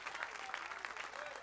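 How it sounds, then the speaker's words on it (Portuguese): A church congregation claps together in praise during a Portuguese-language communion service, a faint, fast, continuous patter of many hands with rhythmic accents, heard from a distance. "Aplauda Ele,"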